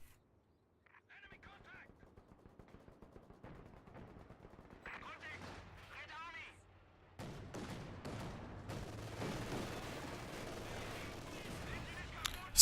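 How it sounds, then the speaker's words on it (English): Gunfire from a WWII-era video game battle, with MG42 machine gun bursts and other weapons going off. Shots are fairly faint early on, then grow louder and denser as the fighting intensifies, under a commentator's voice. "Incendiary shots from the MG42 onto the Maxim, winning that."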